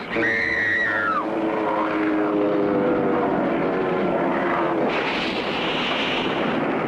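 A propeller plane drones loudly and steadily, its pitch sliding as the engine strains, with a rushing burst near the end.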